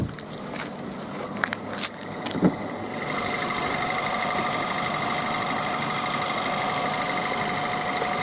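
VW Polo 1.4 TSI petrol engine with automatic gearbox, hood open, idling quietly with a soft even hum and light ticking, preceded by a few clicks and handling knocks near the engine bay.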